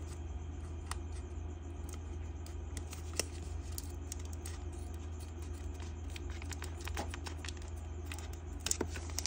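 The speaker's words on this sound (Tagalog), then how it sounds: "Guntingin natin." Scissors snip through paper packaging around a Bini x Jollibee photo card, a quick series of sharp cuts and crinkles over a steady low hum, with no voice.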